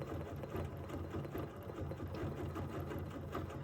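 A sewing machine stitches steadily while couching fibers along a line, a quiet, even rapid whirring hum with a regular mechanical rhythm and no talk.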